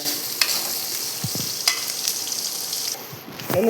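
Onions frying and sizzling in a pan while being stirred, with a steady close hiss broken by occasional scrapes and clinks of the spoon.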